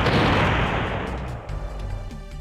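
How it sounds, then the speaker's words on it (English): Heavy explosions from grenades in the video game Front Mission 3 open loud and dense, then thin into a lower, rumbling tail with a few scattered bursts. "looks like we managed to evade those grenades"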